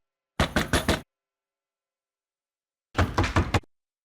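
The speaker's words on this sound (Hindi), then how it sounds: "कोई खटखटा रहा है।" Two separate bursts of knocking on a door, each a quick run of three or four firm, close raps, separated by a couple of seconds of silence.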